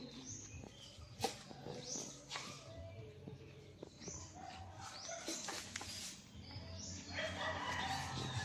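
A rooster crows at a distance amid outdoor ambience, with other faint bird and animal sounds scattered through the background.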